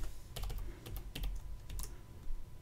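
A password being typed on a computer keyboard at the Pi-hole web login, soft scattered key clicks at an uneven pace, quiet and close with no talking.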